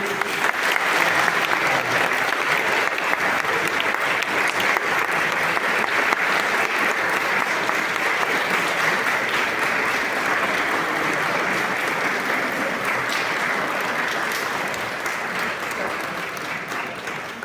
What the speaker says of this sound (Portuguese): Eu vou pedir aqui palmas para ele.